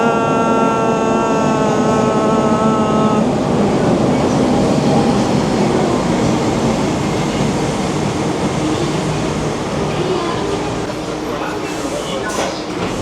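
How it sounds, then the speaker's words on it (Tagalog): Train pulling into a station platform in Yokohama, Japan, a steady loud rumble of wheels and motors with tonal whine, under talk from nearby people, easing slightly toward the end. "nandiyan na yung train namin"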